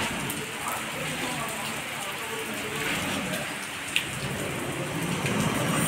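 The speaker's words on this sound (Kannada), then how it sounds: "ಸಕ್ಕತ್ ಮಳೆ." Heavy rain pouring steadily in a loud, continuous wash of drops striking surfaces, close and unbroken throughout, with a single sharp tap partway through.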